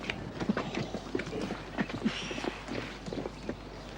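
Light, irregular hoof clops on a hard surface, fairly faint and steady, like a horse walking at an easy pace while pulling a cart.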